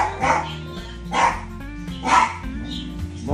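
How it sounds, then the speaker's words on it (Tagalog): A dog barks three times at a steady pace, fairly close, with a low hum and background sounds in between. "Ito yung pinakamatanda namin aso, si Mocha."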